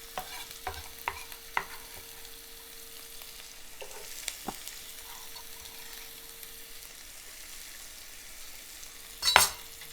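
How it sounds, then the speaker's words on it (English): Onions sauté in a hot pan with a soft continuous sizzle, punctuated by a few sharp knocks of a utensil stirring and a brief clattering scrape near the end. "while we are sauteing our onions"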